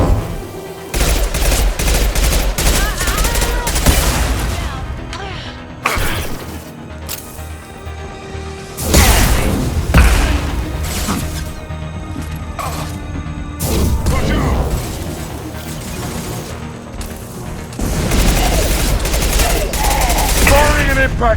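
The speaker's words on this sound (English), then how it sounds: "Firing an impact shot!" Gunfire in the video game Mass Effect 2, loud bursts of rapid shots and heavy impacts that come in clusters with brief pauses, over a busy combat mix.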